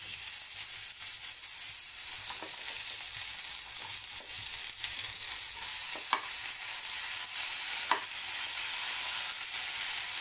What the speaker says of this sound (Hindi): प्याज मेरी गोल्डन होने वाली है। अब मैं इसमें डाल दूंगी टमाटर